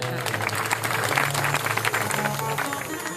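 An audience at a Shiv Puran religious discourse clapping along, dense continuous applause at moderate volume over a steady tonal background throughout.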